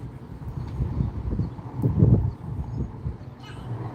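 Horse at a mule sale in Ada, Oklahoma, hooves clip-clopping on the ground in an uneven, fairly close series of thuds, with a louder cluster midway and no clear whinny.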